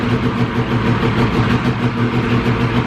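An old, long-abandoned Ski-Doo touring snowmobile engine idles close by with a steady, slightly uneven throb, loud and continuous throughout, with no voices over it.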